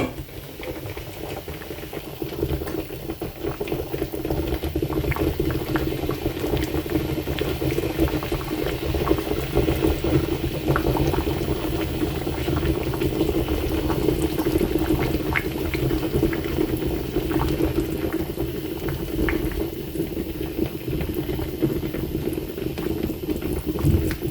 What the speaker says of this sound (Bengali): ঢেকে বলক চলে আসা পর্যন্ত রান্না করে নেব। বলক চলে এসেছে